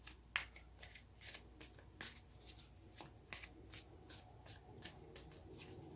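Tarot cards being shuffled by hand in a quiet room, a steady run of crisp riffling flutters and soft slaps repeating roughly twice a second for several seconds, close and fairly quiet.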